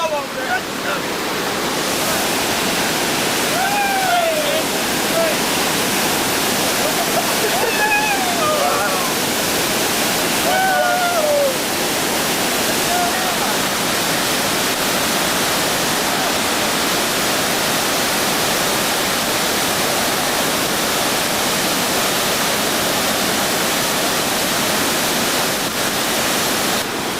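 Steady broadband roar of a waterfall in Puerto Rico, loud and continuous from start to finish, with a few whistled or shouted voice calls rising over it early on.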